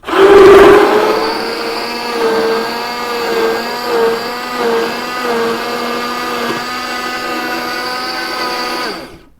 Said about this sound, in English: It's just an immersion blender, which I really love.